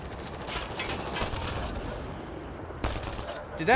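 Bursts of gunfire from the Mass Effect Andromeda video game, dense and continuous over rumbling combat noise, with a sharper crack near the end.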